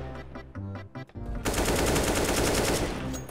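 Rapid automatic gunfire from a CS:GO match, a dense continuous burst of loud shots that starts abruptly after a second of muffled game noise and runs steadily to the end.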